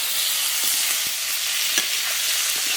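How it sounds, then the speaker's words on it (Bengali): Potatoes fry in fish oil with a steady, close sizzle and scattered small pops, continuous and alone throughout. "আলুগুলো সুন্দর লাল লাল ভাজা হচ্ছে"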